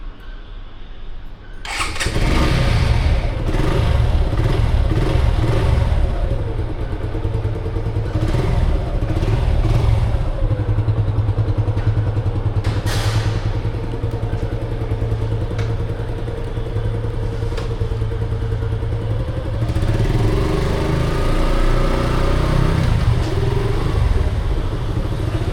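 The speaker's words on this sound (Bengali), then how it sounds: "ইন্ডিয়ান মতুল 5100 মানে সেমি সিনথেটিক যে ইঞ্জিন অয়েলটা সেটা দিয়ে আমি ১৯০৬ কিলোমিটার বাইক রাইড করে ফেলছি and this is how the engine sounds." A Suzuki Gixxer 155 motorcycle running on Motul 5100 semi-synthetic oil, with 1906 km ridden on it, cranks and fires up, then settles into a steady, close idle with a deep, even thrum and a brief rise in revs midway.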